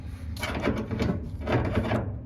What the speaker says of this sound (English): when I spin that, it makes that squeaking sound.